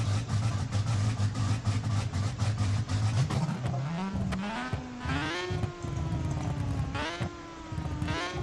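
Very loud burnout car in BeamNG.Drive idling with a heavy, lumpy rumble, then revving up in rising surges that hold and repeat, close and alone without speech.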